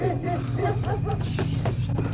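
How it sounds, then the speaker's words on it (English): A dog barking outdoors, a run of quick rough barks over a steady low hum, fairly close and loud. "Stop fucking barking!"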